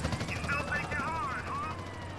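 Police helicopter in the video game GTA San Andreas, a steady droning rotor hum under a voice, with siren-like gliding tones weaving over it.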